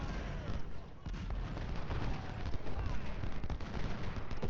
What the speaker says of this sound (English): let's bring up the artillery here